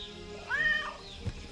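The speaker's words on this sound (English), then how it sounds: "I hear the cat." A cat in the Keep Up Survival video game gives one short, rising-and-falling meow, moderately loud over a steady low background hum, with a brief soft thud just after.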